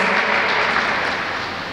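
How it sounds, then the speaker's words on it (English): A short burst of clapping from a group, dense and fairly loud, fading slightly at the end. "We run our applause to our virtual participant."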